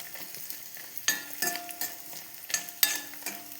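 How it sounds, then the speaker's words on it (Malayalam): Chili, tamarind and onion sauté for a homestyle chilli chutney, giving a low sizzle broken by several sharp scrapes and clinks of a spoon against the pan, close by with no talk. "മുളക്, പുളിയും ഉള്ളിയും എല്ലാം ഇതിൻ്റെ അകത്തുനിന്ന് വഴന്ന് വരും നല്ല അടിപൊളിയായിട്ട്"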